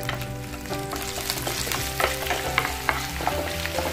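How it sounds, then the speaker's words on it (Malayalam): Chicken 65 frying in a pan with garlic and green chillies, a loud close sizzle broken by scraping stirs and sharp crackles, continuous with no talking. "ആ ഒന്ന് ഫ്രൈ ആയിട്ടുണ്ട്, ഉടനെ തന്നെ നമുക്ക് വെളുത്തുള്ളി ഇട്ട് കൊടുക്കാം"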